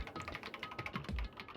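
Quiet, quick keyboard typing in the Danganronpa video game, a soft run of rapid, evenly spaced key clicks with a few heavier taps near the end, faint and without voices.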